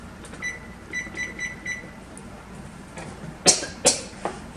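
A kitchen timer beeps in quick bursts of four, repeated several times, followed by louder clatter and kitchen noise while mixed peppers cook.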